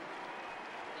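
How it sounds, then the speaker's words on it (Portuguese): Stadium crowd at Arena do Grêmio during Brazil vs France, a mix of boos and applause as Neymar is substituted, a broad distant roar under a commentator's voice. "Começaram algumas vaias, imediatamente outros torcedores aplaudiram"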